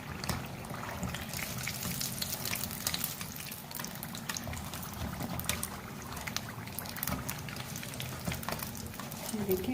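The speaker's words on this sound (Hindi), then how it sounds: "अब बाकी समोसे जो रह गए हैं वो भी सेम इसी तरह हम फ्राई कर लेंगे" Chicken samosas deep-frying in oil for iftar snacks, a dense continuous sizzle and bubbling with scattered sharp pops, steady and close throughout, no voices.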